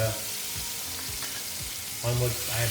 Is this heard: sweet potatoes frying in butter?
yes